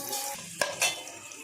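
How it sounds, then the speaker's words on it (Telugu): Carrots fry in oil in a pan for restaurant-style veg fried rice: a soft, close sizzle runs under a couple of sharp spatula clinks and a stirring scrape. "ఇప్పుడు క్యారెట్ని కొంచెం ఫ్రై అయ్యేదాకా ఫ్రై చేసుకుంటాను"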